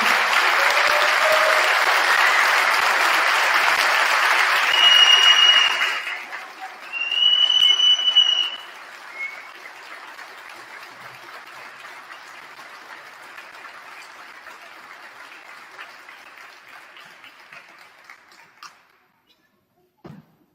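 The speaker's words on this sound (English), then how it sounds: "So I would like to have a large, long round of applause for our" Long, loud round of applause from the audience at a school hall of fame induction ceremony at La Salle Institute, dense clapping that carries on for many seconds, with whistles over it and a few thumps, before thinning out and fading to silence.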